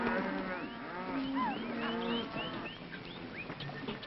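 Cattle being driven by riders low and repeatedly, several overlapping moos spreading through the herd at close to middle distance, with birds calling above them and no talk.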